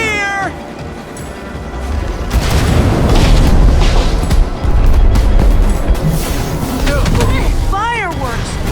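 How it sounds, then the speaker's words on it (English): Fireworks launch against the Wither Storm in Minecraft: Story Mode, with rising whistles followed by a run of heavy, booming bursts that stay loud and continuous for several seconds. "Fireworks! Good thinking, Lucas!"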